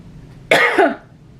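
One short, sharp cough, close and loud, in an otherwise quiet room.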